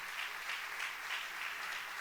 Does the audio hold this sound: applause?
yes